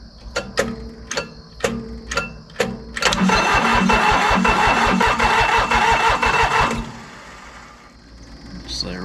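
A long-neglected commercial diesel mower cranks with rhythmic starter ticks on glow plugs, then the engine catches under throttle into a loud, rough burst of running for a few seconds before dying back to quiet with a final knock.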